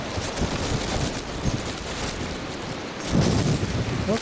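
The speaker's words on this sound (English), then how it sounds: "It is really windy." Strong winter blizzard wind roars across the microphone in a dense, continuous rush that surges louder near the end, with no clear voices over it.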